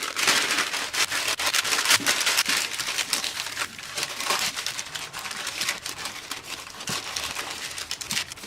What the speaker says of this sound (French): on beurre le moule et on y place la feuille de papier sulfurisé